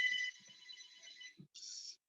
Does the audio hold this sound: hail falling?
no